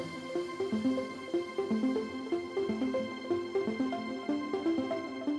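Synth lead at the start of a breakdown in an electronic track, a rhythmic pattern of short plucked notes stepping up and down in a repeating phrase, moderately quiet and with no voices.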